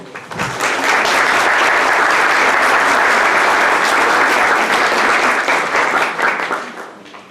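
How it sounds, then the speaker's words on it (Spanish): Strong audience applause for a pathology resident at a medical teaching session, building quickly to a full, steady roar of clapping and fading out over the last second. "Recibamos con un fuerte aplauso"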